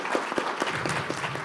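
An audience at a climate action conference session applauding, steady dense clapping throughout with no voices over it.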